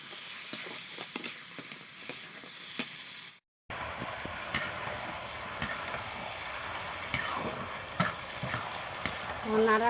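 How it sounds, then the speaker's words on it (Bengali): Pre-fried chicken stirred in a pan for chicken kosha, with a steady sizzle and repeated scraping spoon strokes at close range, briefly cut by a short gap of silence. "নাড়াচাড়া করতেছি"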